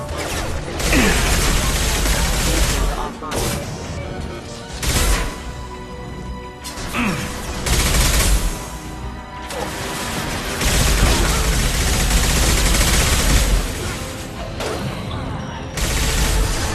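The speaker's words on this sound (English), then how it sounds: "Hell of a shot." Gunfire and impacts from the sci-fi shooter Mass Effect 2, a busy run of shots, crashes and mechanical clatter over a music and effects bed. Voices speak among the bursts.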